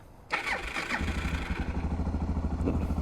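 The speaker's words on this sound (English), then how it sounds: "Fire right up." A Suzuki DR650 single-cylinder motorcycle, choke applied, cranks briefly and then catches, settling into a close, loud, steady thumping idle.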